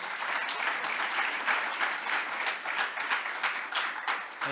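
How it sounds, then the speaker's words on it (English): Sustained audience applause fills a hall during the vote of thanks at the Sasol TechnoX 2022 event: dense, steady clapping from many hands, fairly close and even in loudness, with no speech over it. "I'm sure we need to give them a round of applause."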